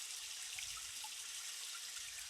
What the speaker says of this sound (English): open this up, let all the water out of it